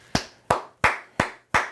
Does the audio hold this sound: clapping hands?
yes